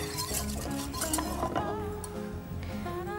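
A whisk clinks and scrapes steadily against a pot as arrowroot is beaten into milk for Shahi Tukra, making close, busy metallic stirring sounds with no talking.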